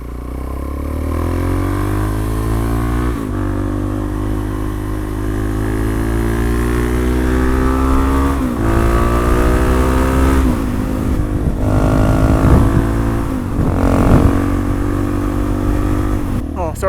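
Car cruising on a UK motorway, a constant low engine drone and road rumble with a few gear-change shifts in pitch, steady and close throughout, no talk.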